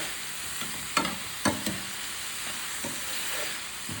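Beetroot thoran frying in a pan is stirred now and then, giving a few distinct scraping clacks over a steady low sizzle, close and moderately loud with no talking.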